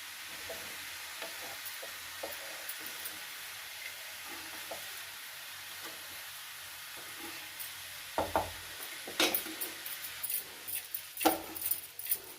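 Cabbage curry being stirred in a pan, scraping and clattering strokes that grow louder and more frequent toward the end, over a soft steady sizzle.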